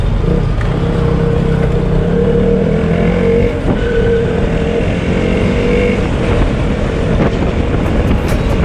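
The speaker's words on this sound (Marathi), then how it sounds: "इथं तर ट्रॅफिक आहे, मला तर वाटतं लागेल सिग्नल." Steady, loud city road traffic surrounds a rider: a continuous rumble of car and motorcycle engines and tyre noise, with no pauses and no talking.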